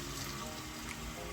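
Hot water is poured into a pot of thickening ugali, a soft, steady rush of liquid with no voices.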